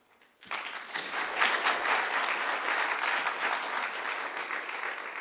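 Residents applaud staff at a town council planning meeting in Oakville, a sustained round of clapping from the audience that starts abruptly and holds steady for several seconds, with no talk over it.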